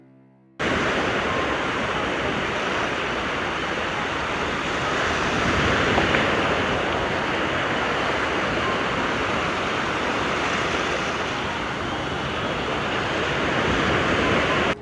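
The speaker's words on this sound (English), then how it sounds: "The crash of waves" Ocean waves crash continuously at night in freezing, dangerous waters, a dense, steady roar of surf that swells slightly and fills the whole stretch without pause or voices.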